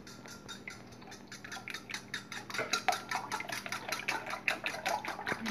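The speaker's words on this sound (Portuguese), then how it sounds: "Aí vou bater aqui os ovos." Eggs beaten in a bowl for ambrosia, with a utensil clinking rapidly and steadily against the bowl, close by and building in intensity with no voices.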